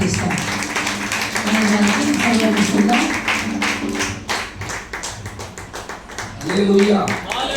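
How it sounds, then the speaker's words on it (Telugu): A church congregation at AGM Church in Somlapuram claps to welcome a preacher, with many hands giving a dense rhythmic patter under someone speaking. "మనమందరము చప్పట్లు కొడుతూ స్వాగతిస్తాం"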